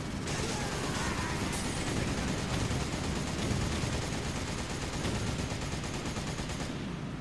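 Steady gunfire in Resident Evil 5 on Xbox One as enemies are shot, dense continuous shooting and clatter filling the whole stretch at a constant level.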